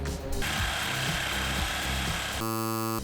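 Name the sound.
jigsaw cutting wood of a minibar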